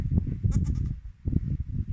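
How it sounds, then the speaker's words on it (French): A dwarf goat kid bleats in a short wavering burst amid close, low rumbling handling noise, then the rustling continues without calls. "Donc ce sont des chèvres de variété naine"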